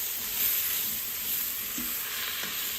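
Ghee sizzling in a pan while toor dal is being made, a continuous soft hiss of frying with a few faint stirring clicks, no talk.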